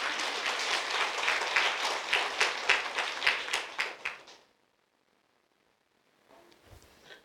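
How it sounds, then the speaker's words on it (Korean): A church congregation claps together for about four seconds, a lively roomful of hands rising in rhythmic swells before stopping abruptly into silence, followed by faint low rustling near the end. "박수 좀 한번 쳐주세요"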